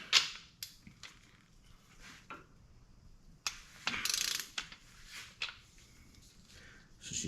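A ratchet wrench clicks close by while loosening the crankshaft during an engine rebuild. Bursts of ratcheting come in short runs, with a louder stretch of rapid clicks partway through and no talking.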